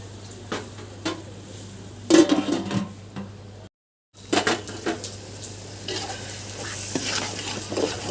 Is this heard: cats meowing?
no